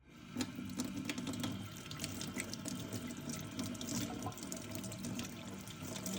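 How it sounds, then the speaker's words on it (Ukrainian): Water pours steadily from a tap into the heating tank of a Chicco electric digital baby-bottle sterilizer, a continuous close splashing stream with no voices. "У нагрівальну ємність налийте 130 мл води."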